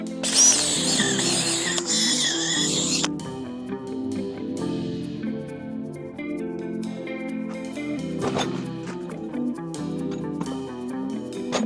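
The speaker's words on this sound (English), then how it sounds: "let's try to polish this side as well" A handheld power polisher works scratches out of a Ducati Monster motorcycle's bodywork: a high, loud whine for about three seconds, then a lower, fainter rotary hum and clicking with a musical backing running throughout.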